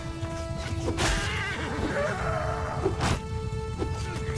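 Horses whinny and snort amid a Mount & Blade II Bannerlord battle, a couple of neighs over a steady din of game noise and a sustained musical drone, fairly close.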